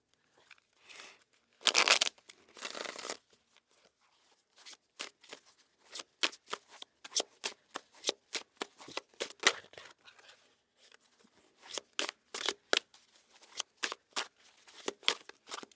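A deck of tarot cards being shuffled, with a loud riffle burst near the start, then a long run of quick, crisp card flicks and snaps in an uneven rhythm, close to the microphone and with no talk over it.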